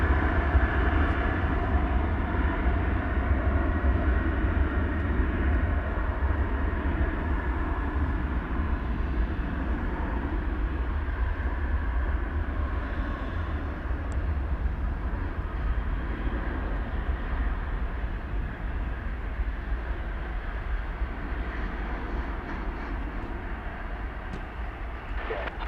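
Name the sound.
American Airlines Boeing 737-800 jet taking off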